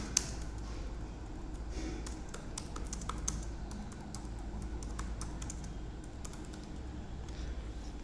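Steady, fast clatter of keys as someone types Python code on a computer keyboard, with close, crisp clicks running continuously over a low room hum.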